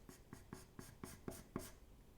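A charcoal pencil shades a rose drawing in steady back-and-forth strokes, about seven soft, evenly spaced scratches, faint and close.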